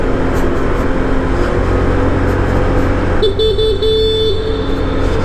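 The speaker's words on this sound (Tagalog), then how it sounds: "Kailangan businahan mo." A motorcycle horn honks in a short stuttering pattern over a loud, steady engine rumble from a Honda Giorno 125 scooter, echoing inside Kaybiang Tunnel.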